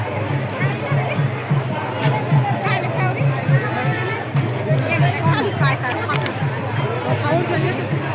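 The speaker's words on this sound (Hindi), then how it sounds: "इस प्रकार से भीड़ भाड़ है, देख सकते हैं कितना भीड़ भाड़।" Crowd bustle at the Madai village fair in Risgaon, Dhamtari, Chhattisgarh: dense, continuous chatter and babble from many people nearby, with a low steady hum underneath and close voices throughout.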